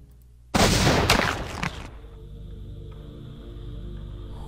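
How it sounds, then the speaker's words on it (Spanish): A single loud gunshot erupts into an explosive blast against prisoners in uniform, a dense roaring burst lasting over a second, then tailing off into a low steady rumble. "una explosión que incluso aplastó el aire surgió al momento de disparar"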